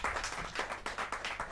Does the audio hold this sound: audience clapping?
yes